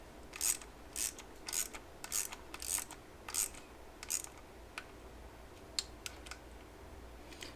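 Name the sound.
starting engine bolts on a CX500 timing cover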